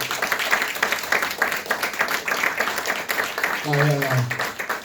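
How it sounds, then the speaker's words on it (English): A stand-up comedy audience claps in a steady patter of applause that runs under a comedian speaking into a microphone, rising a little near the end. "give them a big round of applause"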